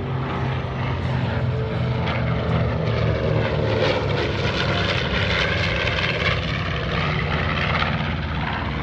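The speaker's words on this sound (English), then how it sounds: "Watch now as this beautiful aircraft approaches from your left." A B-25 Mitchell propeller bomber makes a flyby at a 2018 military airshow, its engines giving a loud, steady, rumbling drone that fills the whole stretch without letting up.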